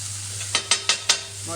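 A smashed burger patty sizzles steadily on a hot griddle as it is flipped, with four quick, evenly spaced metal spatula scrapes and taps cutting through the frying hiss.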